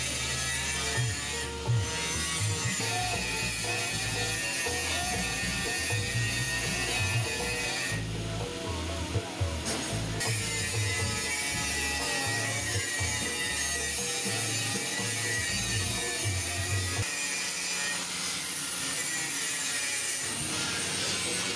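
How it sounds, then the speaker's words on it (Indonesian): Continuous, steady crackling buzz of welding on a hollow iron frame for a gallon water rack, fairly loud and unbroken for most of the span, with no talking. "sekarang di las penuh."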